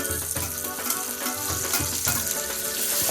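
Onions and tomatoes frying in a pan for kappa biriyani give a steady, close sizzle with occasional stirring scrapes, with no talk over it.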